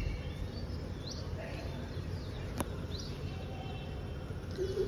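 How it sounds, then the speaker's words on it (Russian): Birds call from a large tree on an Indian morning, with a few faint, scattered chirps over a low, steady background hum. "Если вы слышите, сейчас вот они буквально орут, можно сказать, эти птицы."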